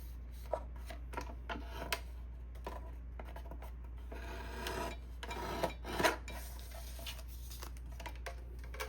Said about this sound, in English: I'm going to take these to my trimmer so that it's perfect